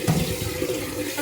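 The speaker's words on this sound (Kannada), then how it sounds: "ಅಕ್ಕಿ ಚೆನ್ನಾಗಿ ತೊಳ್ಕೊಂಡು ಅವನಿಗೆ ಚಿತ್ರಾನ್ನ ರೆಡಿ ಮಾಡೋಣ." Rice being washed in water to prepare chitranna, home-grown rice from the family's own paddy field; a short, close burst of running water and swishing, fairly steady throughout with no talking.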